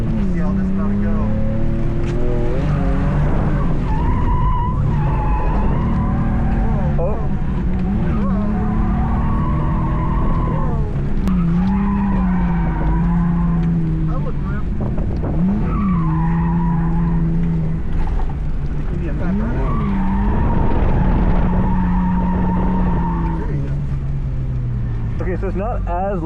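A car drifts at high speed around a race track, engine revving and wailing up and down with tire squeal through the whole run, loud and close, with a driver's voice talking over it.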